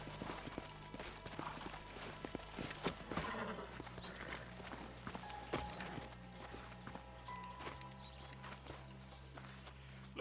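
Horses' hooves clop at a steady walking pace in the Western video game Red Dead Redemption, moderately close with scattered louder hits and a low background hum, with no talking.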